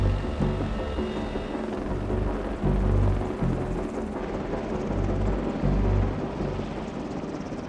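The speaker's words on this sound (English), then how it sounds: "The Marines use the CH-53E Super Stallion to move people and gear for critical missions." CH-53E Super Stallion military helicopter of the Marines in flight, a loud, continuous rotor roar with rhythmic low thumping pulses and broadband turbine noise, heard alone without talk.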